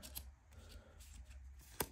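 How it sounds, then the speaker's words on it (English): Playing cards drawn and handled at a table during a solo game of the Marvel Champions card game: soft, close shuffling and sliding with a few crisp snaps, quiet and with no talking. "we're going to draw 5 cards"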